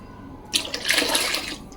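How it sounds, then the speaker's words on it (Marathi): A brief gush of water poured into a cooking pot, about a second long, over a quiet low hum. "आता मी यामध्ये पाणी घालून घेते व्यवस्थित"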